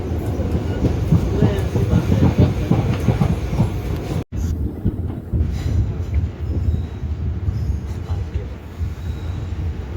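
The Mussoorie Express rolls along the tracks with a loud, continuous low rumble and rattling carriage noise heard from inside the coach, with a brief dropout midway and faint voices in the background.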